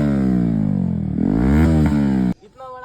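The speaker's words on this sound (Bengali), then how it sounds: "ওর বাইকে থ্রটেল দেবে" A TVS Pep+ engine is throttled hard, its note climbing and holding in a loud, close rev for about two seconds before cutting off abruptly into quieter background.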